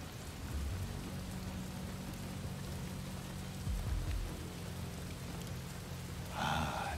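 Steady rain falling in Desperados III, a constant soft hiss of drops with a low rumbling undertone, fairly quiet and even throughout, with a brief brighter splash near the end.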